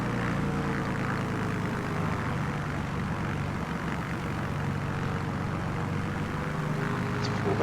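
A Yakovlev Yak-9 propeller engine in Microsoft Flight Simulator 2020 on Xbox Series X drones loudly and steadily, a continuous close throbbing roar with a faint voice underneath.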